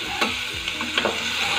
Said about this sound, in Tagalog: So, ngayon ilalagay na natin ating beef cubes.